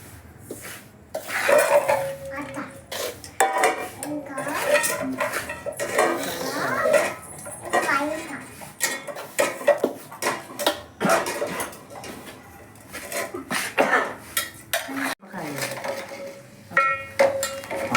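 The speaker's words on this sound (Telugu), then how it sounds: "మిక్స్ చేయాలి అంతా ఉప్పు కారం ధనియాల పొడి జీలకర్ర పొడి ఇదంతా పౌడర్లన్నీ మిక్స్ అయ్యేటట్టు చూడాలి" A spoon clinks and scrapes steadily around a bowl, mixing salt, chili powder, coriander powder and cumin powder for a Telangana-style raw mango pickle; close, busy metallic clatter with short pauses, no one speaking.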